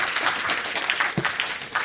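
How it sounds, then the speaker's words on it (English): Conference audience claps for a man in a brief, fairly close burst of applause, scattered individual claps over a thin crowd wash. "So, applause for the gentleman."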